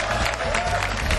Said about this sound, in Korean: 장재호 선수에게 박수를 몰아주시죠